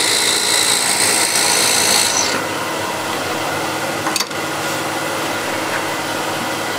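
A woodturning tool scrapes into spinning wood on a lathe, boring a depth hole; a loud, steady hiss fills the first two seconds, then eases to a softer continuous rasp with a brief knock near the four-second mark.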